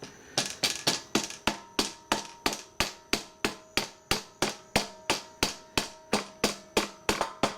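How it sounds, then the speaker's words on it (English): Light rubber-mallet taps on the pump of a Troybilt pressure washer with a Honda GC160 engine, about twenty-two evenly spaced knocks in a steady, fairly quick rhythm, close and clear with no talking. "I assume maybe a rubber mallet, just with some light taps to try to push that in"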